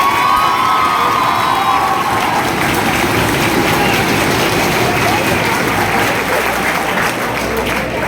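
A large audience at a stage ceremony for a nursing student's selection bursts into loud, sustained applause mixed with cheers and shouts, dense clapping holding steady throughout.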